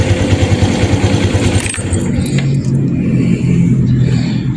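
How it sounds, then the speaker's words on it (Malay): Honda Dash 125 FI motorcycle with a battery due for replacement: the loud, steady idle cuts out and winds down, followed by a quieter rattle and faint jingling afterward. "So kita tutup enjin dulu."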